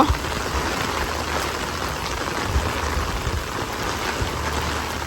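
Rain falls steadily at Bangabandhu Safari Park, a continuous even hiss of drops on surfaces with a few faint low thumps, no voices.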